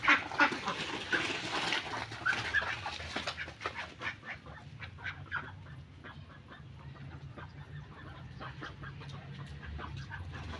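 Pond ducks quacking and calling in a cluster, busy overlapping honks at first that thin out into scattered quacks over a low steady background.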